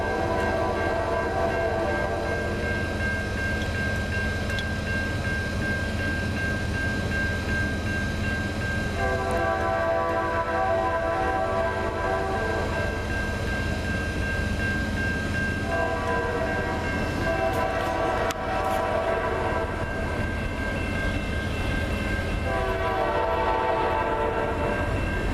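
A CN freight train rolls past, its horn blaring in long repeated blasts over a steady rumble of wheels and cars, loud and close throughout with no talking.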